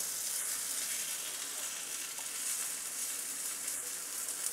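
Green moong appe batter sizzling in an appe pan, a steady soft hiss of frying that runs unbroken, fairly quiet and with no voices over it.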